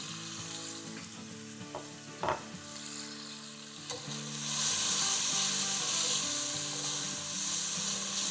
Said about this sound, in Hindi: तो बस हम इसे 30 सेकंड सॉटे करेंगे